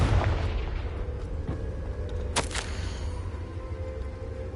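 A Confringo blasting spell goes off in the Hogwarts Legacy video game, a sharp bright burst partway through over a dense, rumbling low boom and steady background din.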